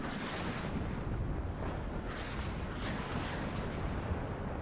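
Tank cannon fire in the Warno real-time strategy game during a 3v3 match on the Vertigo map, with T-80 tanks shooting amid a dense, continuous roar of battlefield rumble and booms, no distinct individual shots standing out.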